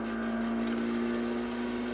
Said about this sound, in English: The engine / exhaust note's not great